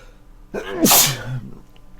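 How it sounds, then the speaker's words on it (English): A single sharp, loud sneeze bursts out close by, preceded by a quick intake of breath, then fades into quiet. "Sorry for sneezing."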